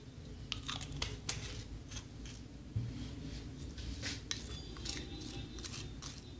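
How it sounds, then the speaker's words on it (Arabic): A spoon stirs a coffee and pumpkin seed oil mixture in a bowl, giving quiet repeated scraping and clinking strokes close by with no talking. "هناخد معلقة بالشكل ده، وهنقلبهم كويس جدا"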